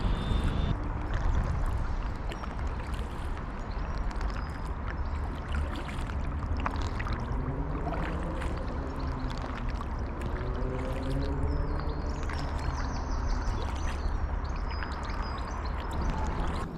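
Kayak paddling on the River Chelmer, with soft rhythmic splashes and trickles of water from the paddle strokes close by, over a steady low rumble and faint tonal sounds in the background.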